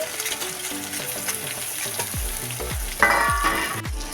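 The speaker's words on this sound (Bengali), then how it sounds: "দেখবে আমার তেলের পাকটা হয়ে গেছে আমি এর মধ্যে দিয়ে দেবো" Semolina batter hits hot oil in a pan and sizzles steadily, with clear stirring scrapes and clinks layered over the continuous frying hiss.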